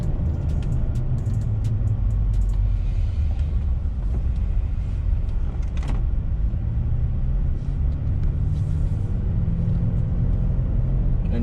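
A 2017 Toyota Tacoma pickup is driven after being shifted back into drive, its engine giving a steady low rumble with road noise from inside the cab and a brief knock partway through.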